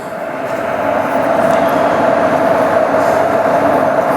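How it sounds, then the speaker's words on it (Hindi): A Marathwada Express train standing just after a Bhusaval-shed WAP4 electric locomotive has been coupled, a loud continuous rumble and hum of rail equipment with a steady tone, no voices. "तो अभी हमारे ट्रेन का लोकोमोटिव कपल हो चुका है।"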